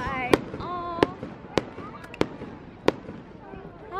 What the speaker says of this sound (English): Oh, you guys, the fireworks are starting.